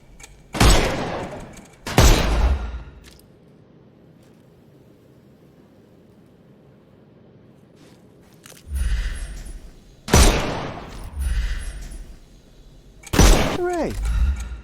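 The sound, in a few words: shooting off enemies' armour in the video game Sherlock Holmes Chapter One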